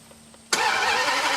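A Ferrari 550 Maranello engine starts with a sudden loud catch after a quiet moment, then settles into a steady, full roar that carries on alone.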